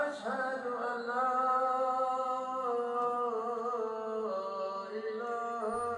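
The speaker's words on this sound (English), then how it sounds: "What you're hearing is the Adhan, or the Islamic call to prayer" Adhan, the Islamic call to prayer, broadcast from a large mosque in Dearborn, Michigan: a sustained melodic chanted voice, steady and moderately distant, with long held notes and gentle pitch slides.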